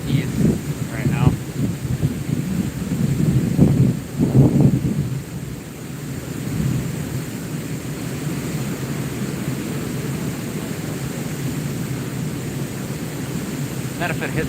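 Wind blowing outdoors from the east while fishing, a steady rumbling buffet across the microphone with louder gusts early on and speech mixed in before it settles into a constant roar.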